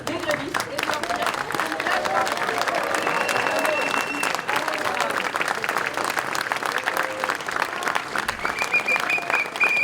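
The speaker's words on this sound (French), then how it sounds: "je vous demande d'applaudir encore le plus fort possible les grévistes" Dense, sustained applause from a large outdoor crowd at a Paris rally supporting striking Vertbaudet workers, loud and continuous throughout with scattered shouts and voices mixed in.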